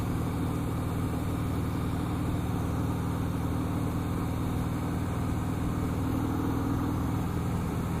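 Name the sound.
Harley-Davidson Breakout motorcycle engine while riding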